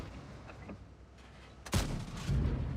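A tank cannon in World of Tanks firing one heavy, booming shot that rolls out over the battlefield, with fainter distant gunfire before and after and no voices.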